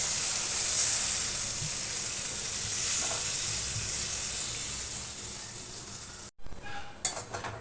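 Water is poured into a pan of frying spices and potatoes for a hilsa fish curry, giving a steady loud sizzle and hiss that runs on, then a brief clatter of the pan near the end.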